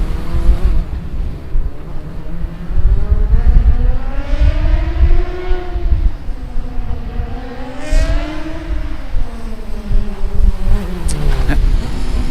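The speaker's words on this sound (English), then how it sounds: "it's the sound of the Team Munich car with the huge rear wing that's waiting to make its" A Formula Student race car fitted with a huge rear wing runs on an autocross track, its loud engine note rising and falling in sweeping pitch changes, steady and close throughout.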